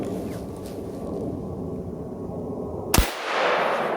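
A single sharp, loud crack of a 7mm Remington Magnum rifle fired over a chronograph, heard once near the end after a steady outdoor rumble, followed by a brief decaying echo.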